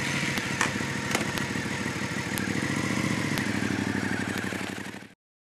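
A Honda CB500X motorcycle engine runs steadily and close by with a throbbing low drone and occasional clicks and rattles, swelling slightly midway before cutting off abruptly near the end.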